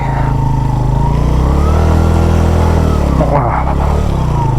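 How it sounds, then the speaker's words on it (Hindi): A motorcycle rides through sand near Skardu, its engine droning loud and close with shifting revs and a brief rougher burst toward the end. "रेत में मोटरसाइकिल चलानी ना एक माहौल है"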